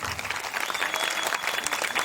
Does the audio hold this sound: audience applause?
yes